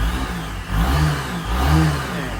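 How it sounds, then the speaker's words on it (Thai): A Suzuki Skywave 650 LX scooter with a six-speed transmission runs close by, its engine humming steadily with a faint whine and two gentle swells in revs. No one speaks. "เสียงเครื่องนี่ก็จะวีดเหมือนกับเบิร์กแมนเลย"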